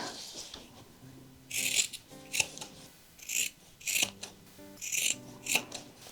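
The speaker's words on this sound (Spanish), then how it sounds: "cortamos un poquito las esquinitas" Scissors snip through fabric corners on a patchwork sewing bag, a run of several crisp rasping cuts in irregular bursts, close and clear with no talking.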